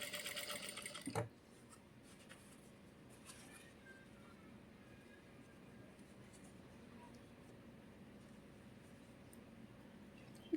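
Sewing machine stitching a pant pocket with a half-inch margin, a brief louder burst near the start, then a steady low mechanical whir running faintly throughout.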